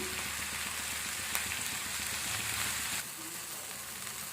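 Cumin seeds and green chillies fry in hot oil for aloo matar masala, giving a steady, close sizzle with light crackle throughout, easing slightly softer near the end; no talking.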